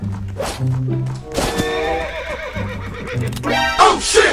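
A horse in the Roblox game Blood & Iron gives two loud, shrill whinnies, the second rising near the end, over a low steady game hum with a faint hint of hoofbeats.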